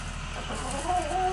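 A hen clucks softly at her new coop, low murmuring chicken sounds with a couple of brief higher notes near the end, close by over a steady background hum.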